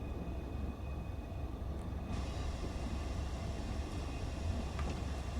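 Steam locomotive in Train Sim World 4 working hard to start on a snowy line, a constant heavy rumble and hiss of the engine and wagons running throughout without talk, with a brighter hiss rising partway through.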